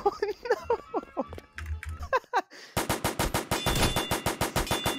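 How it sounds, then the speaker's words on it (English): Rusty gun in Roblox Randomizer fires a fast, even string of sharp shots after a few seconds of excited talk, sounding loud and near like a machine gun. "I have a rusty gun."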